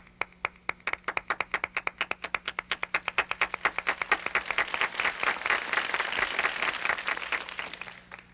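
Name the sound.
everybody clapping, applause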